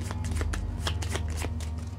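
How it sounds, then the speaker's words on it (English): A deck of cards is shuffled at a table during a board game session, giving a quick run of close, crisp riffling flutters and soft slaps in an even rhythm. "Shuffle these up again."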